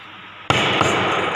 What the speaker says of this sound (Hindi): सेंटर पंच के हेड के ऊपर हैमर मारने का। ये सेंटर पंच की हो गई मार्किंग।